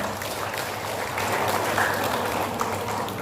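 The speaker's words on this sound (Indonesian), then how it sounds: "Tepuk tangan untuk Batam." An audience at an inauguration event in Batam gives a round of applause, a fairly soft, steady patter of many hands clapping over a low hum, with no voices on top.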